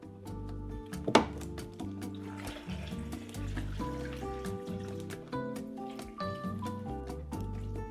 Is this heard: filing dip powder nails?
no